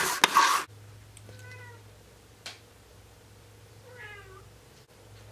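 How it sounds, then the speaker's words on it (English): A cat meows twice, short and fairly close, the calls separated by a few seconds over a low steady hum, after a burst of loud rustling at the start. "What are you doing, kitty cat?"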